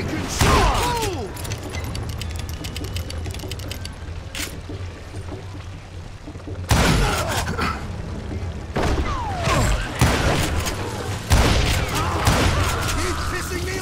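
Sharp gunshots ring out in the Western shooter Call of Juarez Gunslinger, scattered single cracks and quick bursts spread over several seconds, mixed with loud shouting voices and game sounds.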